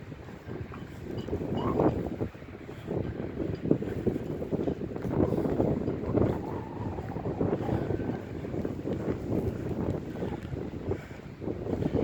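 Cold night wind blowing across a cemetery, a steady broad rush with gusty swells and buffeting against the microphone, loud and continuous throughout with no speech.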